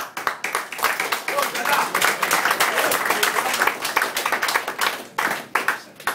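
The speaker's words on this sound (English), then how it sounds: "I want to have a quick applause for him." Applause from the room at a New York press conference for boxer Barker ahead of the Martinez bout, a dense patter of many hands clapping steadily for about six seconds, fairly close and loud.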